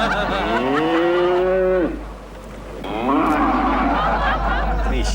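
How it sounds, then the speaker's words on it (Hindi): A buffalo moos twice nearby, a long low bellow that rises and breaks off, then after a short gap a second rougher call, loud against a steady background hum. "मुंबई में मुझे कहीं से भी भैंस की आवाज नहीं मिल रही थी"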